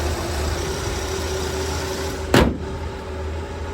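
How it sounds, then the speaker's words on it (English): A Ford straight-six engine idles steadily at about 650 rpm after a carburetor adjustment, a close, even low hum throughout, broken once midway by a short sharp knock. "Set the idle, and it purrs like a kitten. Sits right around 650 RPMs."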